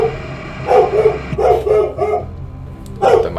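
A dog barks at home in a few loud, close bursts, with short yips spaced by brief pauses and no talking.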